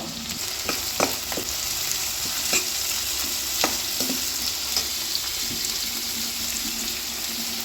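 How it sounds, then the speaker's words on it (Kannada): Onions frying in one to two tablespoons of oil for fried rice, a steady close sizzle with scattered clinks of a spatula stirring against the pan, no voices. "ಫಸ್ಟ್ ನಾನೀಗ ಇದಕ್ಕೆ 1-2 ಟೇಬಲ್ ಸ್ಪೂನ್ ಎಣ್ಣೆ ಹಾಕ್ಕೊಂಡು ಈರುಳ್ಳಿ ಹಾಕ್ಕೊಂಡಿದ್ದೀನಿ. ಚೆನ್ನಾಗಿ ಫ್ರೈ ಮಾಡಬೇಕು."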